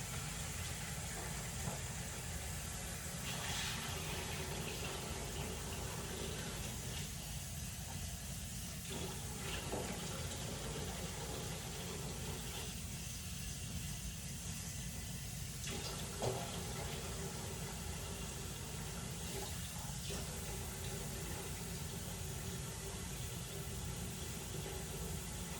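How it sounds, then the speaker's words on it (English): Rice noodles rinsed under cold running tap water in a crowded kitchen sink, a steady broadband rush of water that goes on without a break for about twenty-five seconds, with no talk. "Running that under cold water"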